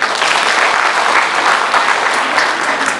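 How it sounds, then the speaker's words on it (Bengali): An audience at an ex-employees welfare association's foundation day and annual general meeting bursts into loud, dense, sustained clapping that fills the room evenly from start to finish. "তো আপনাদের নিজেদের জন্য জোরে একটা করতালি।"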